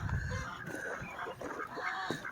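Farm chickens cluck and murmur faintly in a short outdoor stretch, with soft overlapping calls against light background noise.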